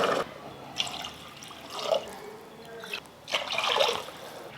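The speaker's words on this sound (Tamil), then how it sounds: "நாலு டம்ளர் தண்ணி சேர்த்துக்கிட்டேன்." Water is poured into a pot of roasted moong dal while payasam is being made, giving soft, faint trickling splashes in short bursts with pauses between them.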